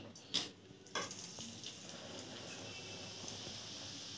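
Ground besan (gram flour) going into melted ghee on the stove, a couple of soft thuds and then a steady low sizzle and crackle as it begins to roast, with no talking.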